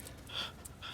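A Rottweiler pants in quick, breathy bursts close by on a warm day on Cape Cod, with short rhythmic huffs and no talk over it.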